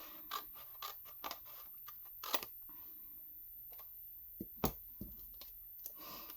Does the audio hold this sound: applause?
no